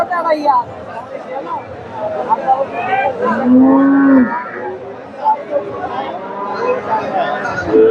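A Jersey dairy cow with her bull calf moos once, a low drawn-out call, at Dakumara cattle market in Bogura, amid a busy crowd of people talking nearby.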